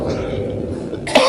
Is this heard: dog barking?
no